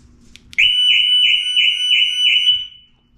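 The siren alarm of an Audi S5 B9 sounds after the panic button is pressed, starting abruptly after a couple of clicks with a loud, warbling electronic tone that pulses evenly for about two seconds before cutting off.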